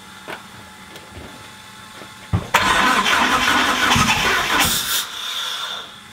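A Mitsubishi Evo engine cranks loudly after a brief quiet stretch, turning over steadily for several seconds without catching before the noise tapers off.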